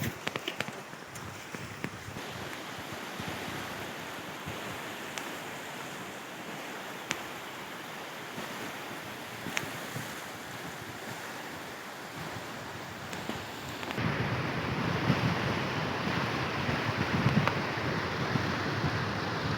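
The Hetauda Rapti river rushes past in east Chitwan, Nepal, a steady broad roar of moving water with some wind buffeting the microphone, swelling louder for the last few seconds.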